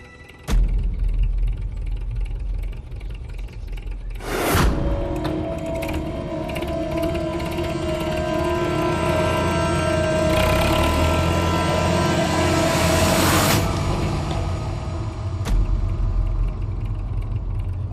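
A tractor engine runs steadily with a loud, continuous mechanical rattle and clatter, marked by a few sharp knocks and a brighter, rising whine partway through, with no voices heard.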